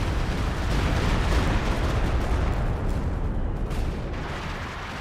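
Artillery barrage pounding away in the Company of Heroes 2 strategy game, a dense continuous rumble of booming shell impacts and blasts that stays loud for the whole stretch with no voices.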